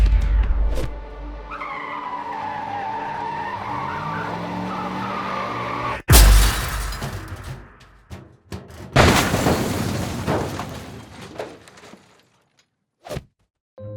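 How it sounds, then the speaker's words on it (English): In an animated story, a car's tires squeal in a long rising skid and then a loud crash hits, followed by further bursts of impact and rattling debris before things go quiet. "Hearing the loud crash"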